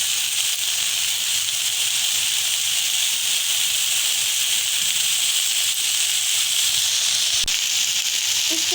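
Pieces of Turkish-style chicken boti sizzling in a pan on the stove after being flipped, a steady loud bright hiss that holds unbroken throughout.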